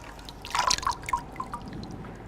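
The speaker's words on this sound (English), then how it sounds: "So once you're done, rinse with warm water." Warm water splashes and drips in a short burst as a face is rinsed, a cluster of close wet splatters that trails off into a few scattered drips.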